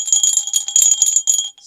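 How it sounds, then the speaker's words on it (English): A small metal bell shaped like a horned Chinese demon, shaken close up with a bright, high tinkling ring that jingles rapidly for over a second before briefly dropping out and ringing again. "sort of a bell. It's got metal horns, and it's obviously some kind of Chinese demon."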